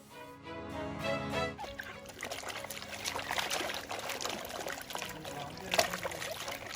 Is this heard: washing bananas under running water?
yes